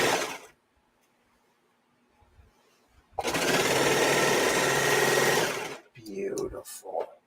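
A serger sewing machine whirs fast and loud for about two seconds in one steady burst, with a quiet, still room before and a person talking right after it stops.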